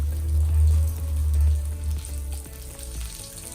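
Vegan fishcakes fry in a pan with a steady, close sizzle and crackle over a low rumbling hum, with no one talking.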